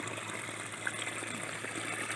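Continuous gushing water draining from a fish breeding tank during a water exchange, a steady even rush heard fairly quietly with no talking.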